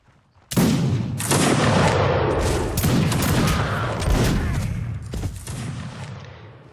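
Dense musket volleys from a Mount & Blade league battle crackle and boom almost without pause, loud and layered, fading slightly toward the end.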